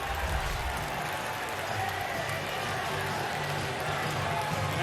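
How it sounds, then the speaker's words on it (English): Baseball crowd at a Pawtucket vs Durham game cheers in a steady, distant roar of clapping and voices, a continuous wash with low chatter underneath and no clear break. "That's the cheer you hear in the background."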